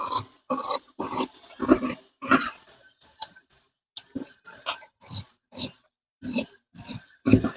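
Sharp, repeated snipping of tailoring scissors through blouse fabric, a steady run of crisp close cuts with short pauses between strokes, no talking.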